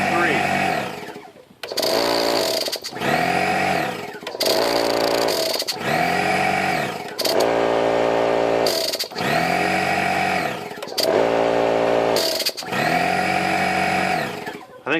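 Hitachi and DeWalt pancake air compressors run in turn from 0 PSI, each a loud, steady motor-and-pump drone broken by short pauses and bursts of starting and stopping.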